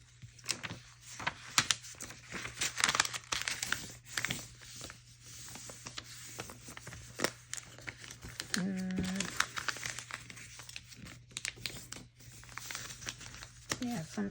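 Paper money being folded up by hand for a savings binder, giving soft crinkling and rustling through most of the stretch, close and fairly quiet, with a voice talking over parts of it.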